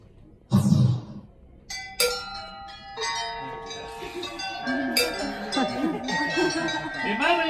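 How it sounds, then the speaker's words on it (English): A bell above the counter of a wand shop rings several times in bright overlapping chimes that sustain and layer over a murmuring background. "I want you to make the bell ring, but only to ring one time."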